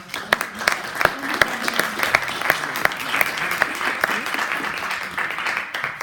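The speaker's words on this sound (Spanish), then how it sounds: "Le ofrecemos un fuerte aplauso, por favor." An audience at a law conference breaks into steady applause, many hands clapping in a dense, sustained patter that fills the room and holds without pause, with faint voices mixed in underneath.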